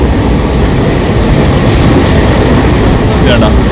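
Passenger train running between Kozhikode and Ernakulam via Shoranur, a loud, steady rumble of wheels on track heard close from on board, continuous throughout with a faint high squeal near the end.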